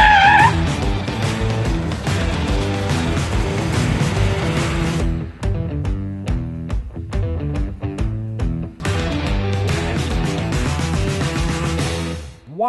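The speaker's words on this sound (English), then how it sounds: "I did a panic stop. And we got a left rear lockup." Car tires skidding hard during a panic stop on a road as the left rear wheel locks up, a loud sustained squeal under engine noise, breaking into choppy bursts midway before a long scrub resumes.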